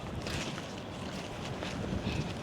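Steady gusting wind buffets the microphone on an open resort rooftop in Cancun, a continuous broadband rushing roar with low rumble, close and fairly loud throughout with no speech.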